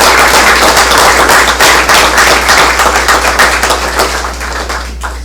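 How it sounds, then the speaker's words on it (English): An audience at a school board meeting applauds an esports national championship team with loud, dense, sustained clapping that runs for about five seconds and eases slightly near the end. "So let's bring them up and give them a round of applause."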